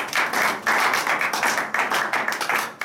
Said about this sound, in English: Let's give an applause to God.